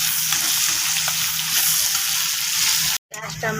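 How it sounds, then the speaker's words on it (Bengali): Onions frying in a hot pan after shrimp have been removed give a continuous, close crackling sizzle, broken by a sudden cut followed by someone speaking. "এখন আমি পেঁয়াজটা ছেড়ে দেবো।"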